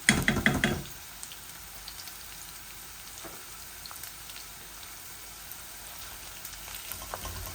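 Onions fry in a pan with a soft, steady sizzle and faint crackles, close but quiet, opening with a brief louder clattering burst before settling into the low continuous hiss.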